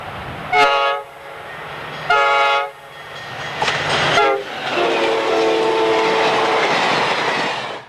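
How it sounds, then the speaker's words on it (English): A train horn blares in several long blasts, then the rumble and rhythmic clatter of a passing northbound Amtrak passenger train near Odin, Illinois grows loud and continues steadily. "Near Odin, Amtrak 392 passes on its northbound journey to Chicago"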